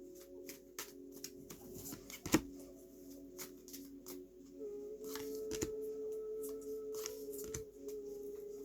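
Emotion cards being shuffled for a card reading, a quiet run of soft papery riffles and taps in an irregular rhythm, close but faint, with a light background hum and no talk.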